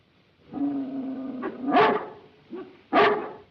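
A dog in a 1935 film barks and growls, a sustained low growl rising into two sharp, loud barks close by, with no speech over it.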